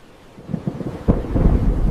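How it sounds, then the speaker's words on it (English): Distant thunder rumbles low and deep, swelling gradually, with a sharper rolling crack near the middle and then a sustained heavy roll to the end. "Calm skies concealed distant thunder."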